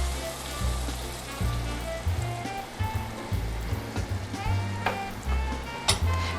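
Half and half cream poured into a hot pan sizzles and bubbles steadily, a soft continuous frying hiss with occasional pops and a low rumble underneath.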